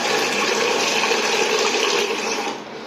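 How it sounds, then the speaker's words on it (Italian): Hot water poured steadily into a container of rusty drill bits, a continuous broadband splashing rush that holds level for nearly three seconds before easing off at the end, close and fairly loud with no voices. "Ora mettiamo tanta acqua da coprire le punte,"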